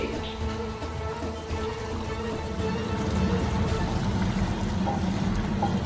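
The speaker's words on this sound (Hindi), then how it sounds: "थोड़ा थोड़ा सा पानी इसका इसमें बबल आना शुरू हो गया।" Chicken karahi cooking on full flame, its liquid bubbling and sizzling in a steady, dense wash that swells slightly louder toward the end.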